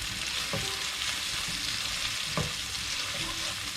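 Steady, close sizzle of ginger and garlic frying with onions in a pan, a constant crackling hiss with a couple of soft stirring knocks, no talking over it.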